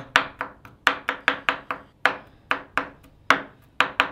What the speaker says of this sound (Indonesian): Ini bawang putih kita geprek dulu nih ya, sob ya kemudian kita rajang ini rajangnya agak halus saja